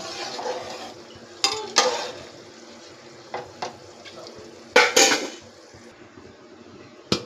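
Rice stirred in a pan of boiling water with salt, coriander powder and chicken masala for light bagara rice, with intermittent scraping clatters of a spoon against metal over a soft bubbling background.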